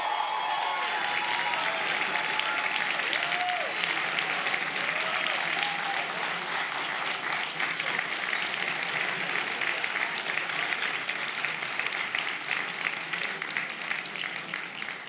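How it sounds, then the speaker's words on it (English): A graduation audience applauds an award winner, sustained dense clapping from a large crowd filling the hall steadily and evenly, holding strong before easing slightly toward the end. "I would really like to honor and applaud and ask you to join me in celebrating Dr. Trevor Wegner today for this award"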